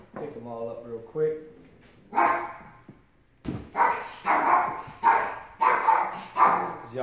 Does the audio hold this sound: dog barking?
yes